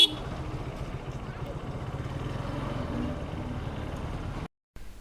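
A motorcycle rides through crowded city traffic full of auto-rickshaws in Bangladesh, with a steady rattling engine drone that continues to the end and stops abruptly.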